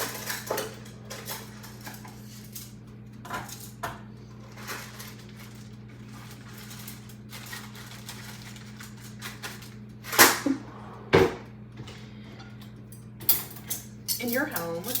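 Dishes and cutlery clink and clatter in a home kitchen as they are put away, with sharp scattered knocks over a steady background hum while breakfast cooks nearby.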